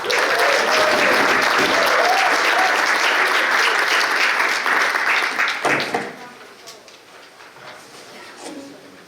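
A concert audience at a big band jazz show applauds loudly and steadily for about six seconds, then the clapping drops off sharply, leaving a few scattered claps and quiet room noise.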